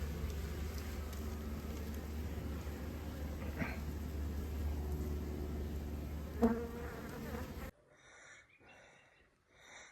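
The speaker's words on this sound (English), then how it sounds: "Happy bees." Steady buzzing of many bees, a dense continuous hum that drops abruptly near the end to quieter, fainter sounds.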